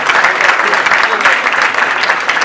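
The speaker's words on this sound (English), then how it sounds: "Let's just give a round of applause to all of the candidates that we heard" An audience at a gubernatorial candidates' forum gives a full round of applause, steady and loud clapping from many people filling the room, with some voices mixed faintly underneath.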